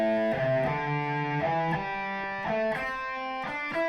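Electric guitar strums loose, sustained chords in a slow, lazy rhythm. The chords ring into each other without sharp cutoffs, loud and close, with no talking.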